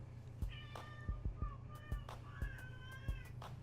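A cat meows several times in short, moderately faint calls, with quiet background noise between them.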